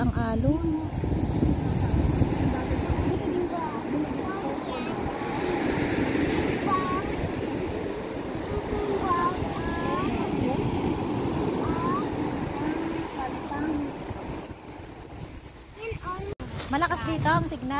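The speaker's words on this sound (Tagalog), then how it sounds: "Malakas ang alon." Strong sea waves breaking on a provincial shoreline in Occidental Mindoro, heard as a continuous close rumble with gusty wind on the microphone. A small boat is nearby, and people talk over the surf throughout.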